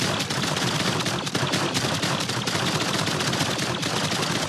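A gun in the StarVault video game fires bullets as a continuous, loud, rapid automatic stream of shots that holds steady for several seconds with no talking.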